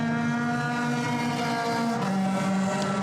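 Euroformula Open race cars at Spa-Francorchamps drone past at speed, a loud sustained engine tone with a shifting pitch as they peel off into the pit lane.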